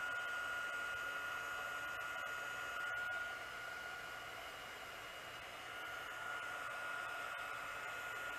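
Steady, close whooshing blow of a heat gun shrinking heat-shrink tubing on a jon boat being converted to a bass boat, a constant airy hiss with slight dips and faint clicks.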